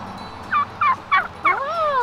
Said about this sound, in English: Hey, they have turkeys here too.